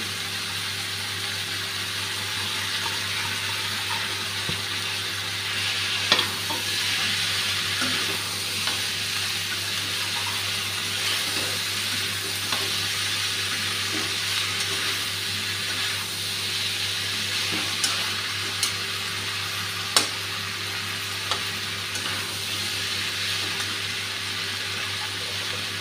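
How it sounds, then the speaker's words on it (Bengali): Fried taro and fried shrimp stirred into a sizzling spice mix in a pan, steady loud frying hiss with occasional sharp clicks of a spatula, close and continuous, no talking. "এখন মুখী কচু ভাজা আর চিংড়ি মাছ ভাজাটা দিয়ে দিচ্ছি"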